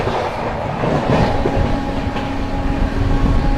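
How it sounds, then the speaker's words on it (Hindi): A passenger train overtakes the Magadh Express at Vindhyachal, making a steady, loud rumble and clatter of rolling wagons close by, with no pauses and no voices. "ओवरटेक कर रहे हैं मगध एक्सप्रेस को। Overtaking Magadh express."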